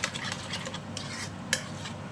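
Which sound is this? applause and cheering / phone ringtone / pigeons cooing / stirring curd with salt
stirring curd with salt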